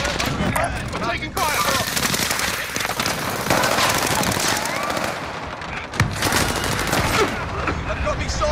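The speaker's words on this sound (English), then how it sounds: "I'm taking fire" Rapid, dense bursts of gunfire rattle continuously in a Call of Duty: Vanguard Resurgence match on Caldera, with automatic fire and overlapping shots crackling loud and close throughout.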